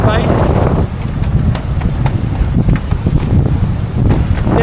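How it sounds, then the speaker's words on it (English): Strong wind buffets the microphone on a sailboat crossing the Aegean between two Greek islands. A loud, continuous roar is broken by gusty bursts, and a voice talks over it. "the wind was creeping up again as we got to the gap between these two major Greek islands"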